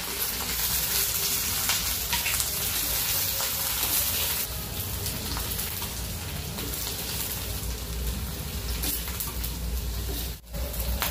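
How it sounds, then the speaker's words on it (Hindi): Slit okra pieces fry in hot oil over a medium-to-high flame, giving a loud, continuous sizzle and crackle that eases slightly partway through before a brief dip near the end. "इसे फ्राई कर लेना है, तेल गर्म है हमारा।"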